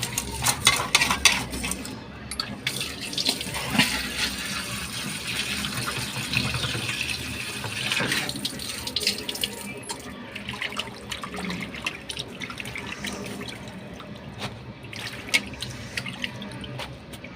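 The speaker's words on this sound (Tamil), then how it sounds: "இப்போ வந்து நல்லா தண்ணி போட்டு வாஷ் பண்ணிக்கலாம்." Fish being washed under running tap water in a kitchen sink, a steady broadband rush of flowing water with splashing and handling noises throughout, close and fairly loud, with no talking.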